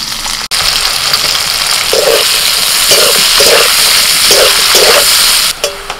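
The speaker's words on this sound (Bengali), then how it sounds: "এবার ওই তেলের মধ্যে আমি পেঁয়াজ কুচি দিয়ে দিচ্ছি।" Chopped onions fry in hot oil, a loud continuous sizzle close by, with a few short clinks of stirring breaking through the hiss.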